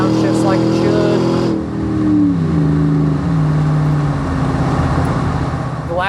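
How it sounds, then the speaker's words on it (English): A 2007 Dodge Ram 1500 pickup with a 5.7 Hemi V8 revs up and downshifts on a test drive, its engine note climbing and then dropping as the gears change. The sound is loud and close throughout, with someone talking over it. "Get back in the throttle there, downshifts like it should."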